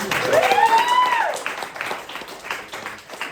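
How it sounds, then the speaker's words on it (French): Crowd applause and cheering at a comedy show, with a loud whoop or whistle rising over the clapping early on, then tapering off. "Tenez un applaudissement pour Pierre-Yves, s'il vous plaît"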